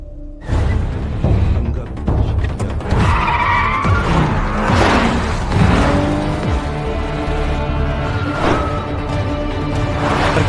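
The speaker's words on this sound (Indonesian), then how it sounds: "Mobil polisi, kendaraan gangster, dan Samsul saling bertabrakan di jalanan sempit" Police cars and gangster vehicles skid and screech through a chase on narrow, rain-soaked city streets in Cheonan, with squealing tires, roaring engines and crunching impacts layered loudly over several seconds.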